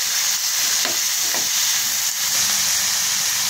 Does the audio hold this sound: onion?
yes